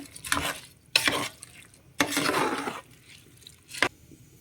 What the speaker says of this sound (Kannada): ಇವಾಗ ಚೆನ್ನಾಗಿ ಇದನ್ನೆಲ್ಲ ಮಿಕ್ಸ್ ಮಾಡ್ಕೊತಾ ಇದ್ದೀನಿ.